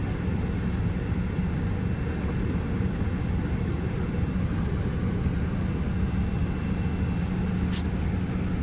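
An airliner accelerating down the runway for takeoff, heard from inside the cabin as a steady, loud roar of engine and rumbling wheel noise that holds without a break throughout.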